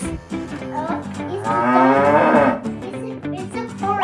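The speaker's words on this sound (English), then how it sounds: "What sound does a cow make?" A cow lets out one long, loud, close moo that rises and swells for a couple of seconds before trailing off, heard alone without talk.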